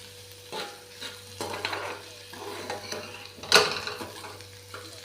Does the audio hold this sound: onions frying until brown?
yes